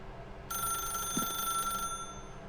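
Telephone ringing in the video game The Stanley Parable: a bright, steady electronic ring lasting over a second, moderately loud above a low background hum.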